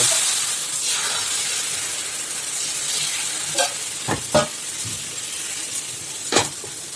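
Dosa batter sizzles steadily on a hot pan for Tamil-style breakfast dosas, a continuous close hiss with a few sharp scraping or clinking accents near the end.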